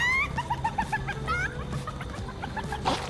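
Chicken clucking in the Overwatch 2 April Fools spring chickens event, voiced by a voice actor imitating a hen: a rapid series of high clucks and squawks over faint background game noise.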